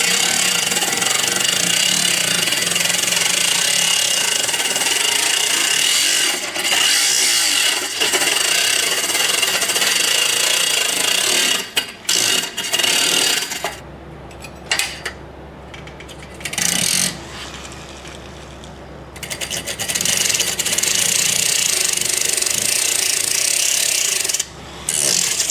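A flexible shaft tool runs at a slow speed to roughen a metal surface on a Hardinge HLVH lathe guard, producing a loud, close, continuous gritty scraping that breaks into choppier bursts partway through before steadying again.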